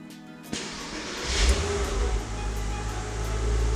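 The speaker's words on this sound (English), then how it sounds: "we've got to start the car now for the first time" A Porsche Boxster 986 engine cranks and catches with a sharp start, then settles into a loud, steady idle with a deep rumble close by.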